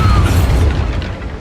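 A Bombarda spell explosion in Hogwarts Legacy: a single loud, close boom with a brief crackling burst that decays quickly.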